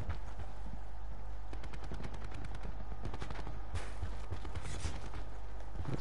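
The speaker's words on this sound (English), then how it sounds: "I love this swordfish because you don't have to be dead accurate with it, because the burst lasts so long." Swordfish burst rifle firing in Black Ops 4, rapid regular bursts of shots repeating through the clip over constant loud game background noise, with no talking.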